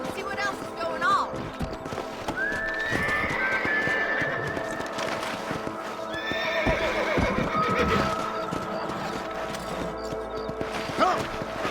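Horses in the Red Dead Redemption video game, with sharp whinnies and neighs breaking out over a busy clatter of hooves, loud and close, while people talk over the commotion.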